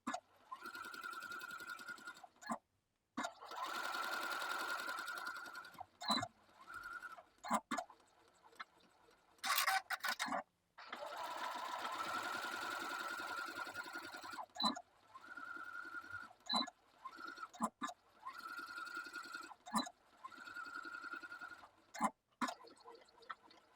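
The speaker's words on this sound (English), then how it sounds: "Then top stitch from the top to the bottom of each pocket to hold it in place." Sewing machine topstitching down the pockets of boxer shorts, a series of whirring stitch runs of varying length broken by short stops, with soft clicks and handling noises between them.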